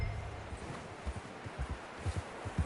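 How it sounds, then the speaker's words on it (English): Horse hooves clip-clop at a steady walking pace in the open-world Western game Red Dead Redemption 2, a soft, even rhythm of thuds with faint background ambience and no speech. "Will you get back on the horse?"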